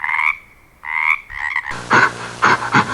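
A frog croaks in loud, close, nasal calls: a few separate croaks, then a rapid run of rougher repeated croaks.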